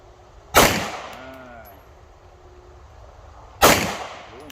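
Two sharp, loud gunshots about three seconds apart, each cracking out and then fading with a short echoing tail, with faint speech and clanks between them.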